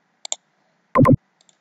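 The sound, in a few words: computer mouse clicking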